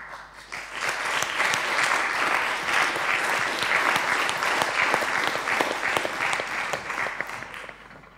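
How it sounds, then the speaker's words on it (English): A panel discussion audience gives a sustained round of applause, dense clapping that swells quickly, holds steady for several seconds and tapers off at the end. "I think you heard the round of applause that we had here."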